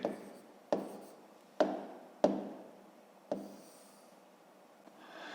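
Pen or chalk writing numbers by hand, a series of about five sharp taps and short scratching strokes spaced roughly a second apart, close and quiet, with no talking.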